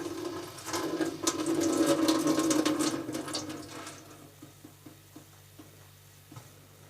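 Running tap water splashes loudly for about four seconds, then stops, leaving scattered drips and small knocks.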